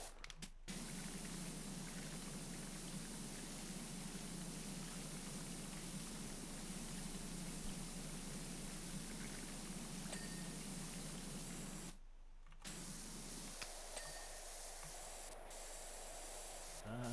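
Pressure washer spraying off grime in the video game Powerwash Simulator 2, a continuous hissing water jet that runs steadily, drops out briefly near the end, then resumes with a slightly changed tone.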